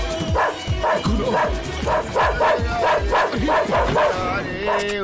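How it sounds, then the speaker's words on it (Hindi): A dog in a Hindi action movie scene keeps up a fast, loud series of nearby barks and yelps, evenly spaced for several seconds, with human voices murmuring underneath. "अरे भैया, कुत्ते को रोको भैया"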